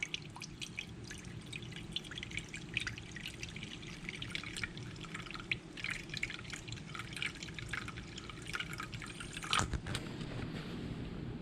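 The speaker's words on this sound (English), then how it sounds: "you're going to fill it up just till it starts to going up the sides of the ramekins" Water is poured into a baking dish around ramekins of Baileys creme brulee, a steady trickle and dripping over several seconds with faint splashes, fairly quiet and close.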